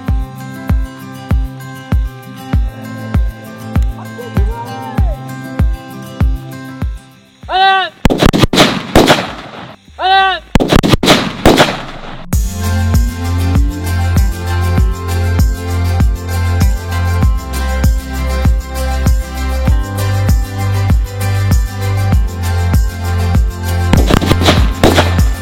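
Country-made Diwali firecrackers burst in a quick cluster of loud, sharp cracks with whistling trails, set against rhythmic background music that plays before and after the blasts.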